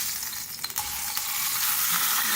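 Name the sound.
fish heads frying in oil on a tawa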